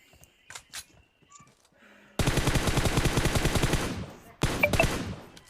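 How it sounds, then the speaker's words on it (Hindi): Automatic gunfire from the mobile battle royale game BGMI on the Erangel map: a loud, dense burst of rapid shots lasting about two seconds, a brief gap, then a second sustained burst, following a quieter stretch of faint game sounds. "तो इस बंदे को जैसे ही मैं फायर करता हूँ तो ये बच जाता है"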